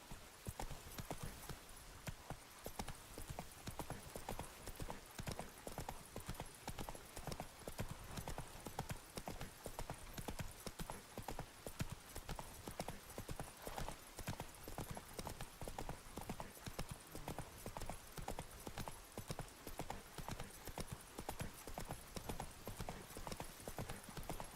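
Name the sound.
horse Roach hooves clip-clopping in video game The Witcher 3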